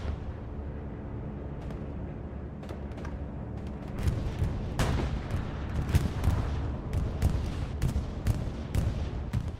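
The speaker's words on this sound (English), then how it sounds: "Here's a bombing run by." Bombing run in the video game Hell Let Loose: distant artillery-like booms and rumbling detonations, sparse at first then clustering into a denser barrage of blasts over a low battlefield rumble.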